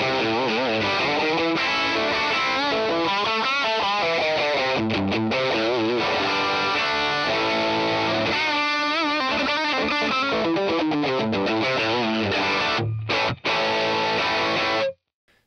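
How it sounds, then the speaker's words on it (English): A heavily distorted electric guitar plays chunky rock riffs through a cranked Class A amp, loud and gritty, ending in a sudden stop. "turn the drive up and the level up, and this just sends this amp absolutely wild"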